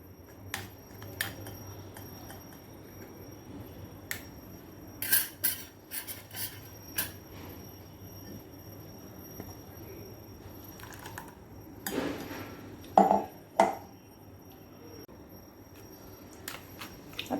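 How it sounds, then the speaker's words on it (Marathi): A metal spoon stirs watermelon juice through a strainer, giving quiet, scattered clinks and scrapes with a louder burst of scraping near the end over a faint steady hum. "अशा प्रकारे चमच्याने हलवून सर्व ज्यूस गाळून घ्यायचा आहे"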